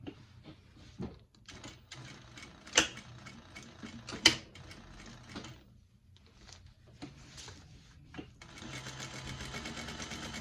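Sewing machine stitching a seam on a crossbody bag, with runs of rapid mechanical whirring broken by pauses, a couple of sharp clicks and handling taps, and a steadier, louder stretch of stitching near the end.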